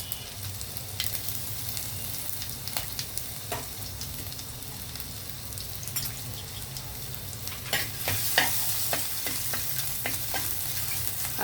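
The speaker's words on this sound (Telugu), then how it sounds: "అల్లం కూడా వేగిపోయిందండి" Ginger pieces frying in hot oil with cumin seeds in a pan for millet kichidi, a steady close sizzle with occasional louder crackles and stirring scrapes, no talk.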